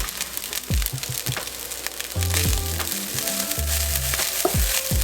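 Fried rice with green onions stir-fried in a hot pan, a dense close sizzle with quick tossing and clattering spatula strokes throughout, alone without speech.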